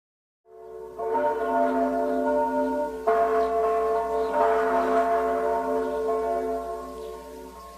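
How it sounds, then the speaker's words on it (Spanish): Church bells ring at two o'clock from Catholic churches, heard together as a loud, sustained resonant peal with overlapping tolls and a long, swelling metallic ring. "Con el replique de las campanas ha iniciado a las 14 horas en punto en todas las iglesias católicas el sonar el pedido a Dios"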